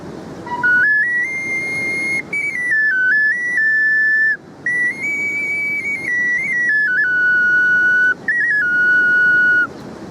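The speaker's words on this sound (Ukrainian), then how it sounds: "Це справжня свістулька?" A handmade Ukrainian clay folk whistle (svyshchyk) from the village of Buky in Cherkasy region is blown in one long, bright, piercing tone that wavers and steps between pitches, with a few short breaks, loud and close, with no talking.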